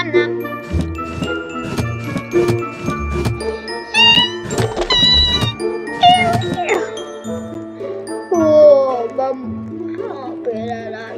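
A cat meows in a Roblox game amid tinkling, jingling game sounds and music, the mewing cries rising and falling over a busy electronic backdrop.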